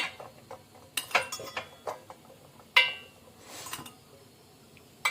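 Metal idli plates clink and clatter in a kitchen as they are set out and greased with ghee, giving a series of sharp, scattered knocks and taps with quiet pauses between.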